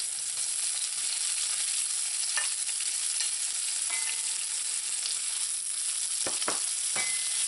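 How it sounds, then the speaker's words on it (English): Half of a batch of onions frying in hot oil for a Trinidad smoked herring dish, a steady loud sizzle throughout with a few brief scraping stirs near the end, no talking. "So when your oil is nice and hot, you're going to add half of the onions."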